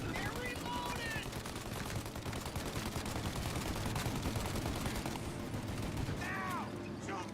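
Enemy machine gun in Mafia Definitive Edition firing in a long unbroken rattle of rapid shots, loud and dense throughout, with brief shouting voices over the barrage.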